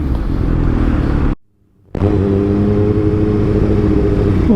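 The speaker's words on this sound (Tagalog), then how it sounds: "Traffic pala dito gantong oras." Road traffic in Quezon City rumbles loud and close with car and motorcycle engines, a continuous drone briefly cut to silence, then resuming with a steady humming engine.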